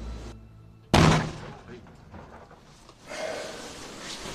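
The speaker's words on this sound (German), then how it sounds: "Ob die Ladung wohl detoniert?" A single sharp, heavy explosive charge blast erupts in snow after a quiet moment, followed by rumbling decay and a later swell of distant noise.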